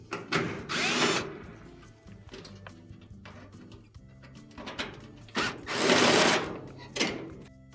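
A power driver loosens the screws holding the pressure regulator on a Frigidaire gas oven that is not sending gas to its burners, giving two loud whirring bursts with quieter handling noises between them, close up and with no speech.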